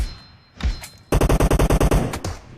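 Gunfire in the PUBG Mobile video game during a deathmatch, a couple of single loud shots followed by a rapid, evenly spaced automatic burst of about nine rounds, close and dominant with no talking.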